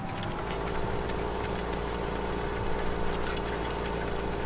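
A John Deere tractor engine in Farming Simulator 2015 runs steadily at a constant low, throbbing drone, close and even, with no talk over it.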